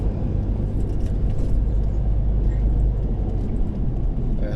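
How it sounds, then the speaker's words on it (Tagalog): A car driving in moderately heavy but moving traffic on the NLEX expressway, heard as a steady, loud road and engine rumble throughout, with no talk. "medyo marami lang sasakyan ngayon dito sa NLEX, pero moving naman."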